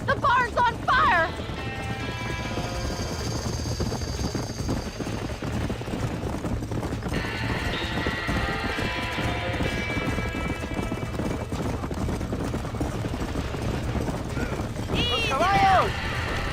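Horses clopping and whinnying near a burning barn in the Red Dead Redemption video game, with a sharp whinny at the start and another near the end over steady hoof noise, while voices shout throughout.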